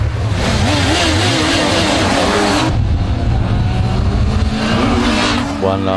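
A sport motorcycle engine, from a lineup that includes the Yamaha R1, Suzuki Hayabusa, Kawasaki ZZR 1100 and Honda CBR, revs hard through a wheelie, dense and loud with a rising then dropping pitch and a brief lull midway.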